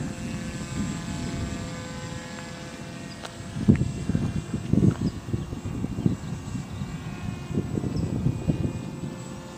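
Engine of a model drone airplane throttling back in flight, a steady buzzing drone with a fluttering, uneven rumble, heard from a moderate distance outdoors.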